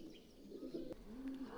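Pigeons coo softly at the Bahadur Baba shrine in Nowshera, low rolling warbles repeating close by over a faint outdoor background, with a brief click partway through.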